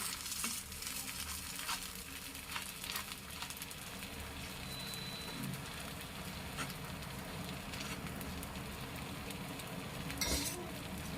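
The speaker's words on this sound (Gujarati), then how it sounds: "આ રીતના આપણે બેટર પાથરીને સરસ મજાના પુડલા બનાવી લેવાના છે." Wheat flour pudla batter fries on a hot pan with a steady, dense sizzle and crackle throughout, plus a few brief clinks and scrapes near the end.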